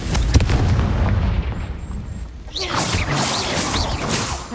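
The Confringo fire spell explodes in the Hogwarts Legacy video game as a loud, roaring blast with a dense rumble, then a second crackling burst with whooshing debris, filling the whole moment without pause.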